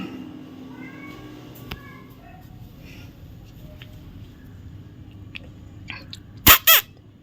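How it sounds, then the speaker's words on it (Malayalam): A cat gives two loud, close meows near the end, following a stretch of quiet room noise with faint higher cries earlier. "ഒരു പൂച്ച കിടന്ന് ഇങ്ങനെ നിലവിളിക്കുന്നുണ്ട്"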